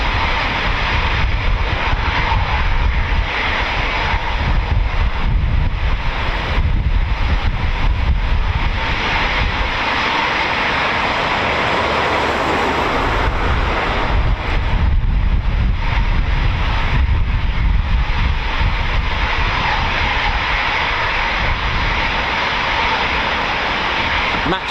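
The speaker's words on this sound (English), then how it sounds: "its thrust to weight ratio allows the Typhoon to be able to accelerate from takeoff vertically into the climb itself" Royal Air Force Eurofighter Typhoon FGR4 jet taking off and climbing at RAF Coningsby, a loud continuous roaring engine rush with wind buffeting the microphone throughout.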